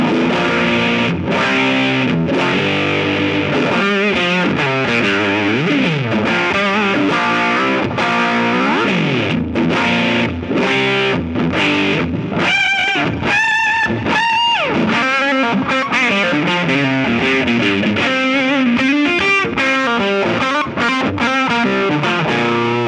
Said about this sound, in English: if I set the mids to a boost, I get some really interesting wah-wah-like sounds